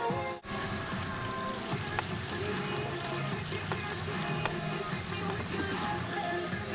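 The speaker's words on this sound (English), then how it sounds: "Then I'll go ahead and fill it up the rest to here with water." Water running from a tap into a plastic gallon degreaser bottle during car detailing, a steady close filling rush that continues evenly throughout, no talking.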